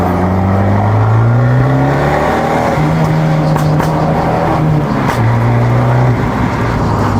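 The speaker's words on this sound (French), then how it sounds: "La voiture fait une sonorité qui n'est pas trop violente, un côté rauque" Abarth car with its exhaust valves open, revving with a raspy, moderately aggressive note; steady engine drone with rising and falling harmonic pitches throughout, loud and close, no talking.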